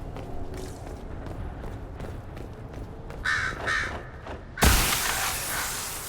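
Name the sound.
birds cawing in video game Dragon Age Inquisition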